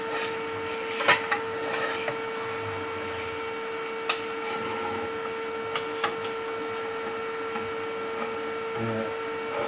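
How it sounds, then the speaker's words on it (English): Vacuum cleaner hoovering out ash from a wood burning stove, a steady whining motor drone with occasional knocks and rattles as the nozzle bumps the stove interior. "and then I hoover it out like that."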